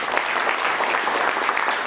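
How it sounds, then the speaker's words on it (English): Steady audience applause at a real-estate wholesaling coaching event, a dense wash of many hands clapping evenly and fairly loud throughout, with no voices on top. "So how about a round of applause for that"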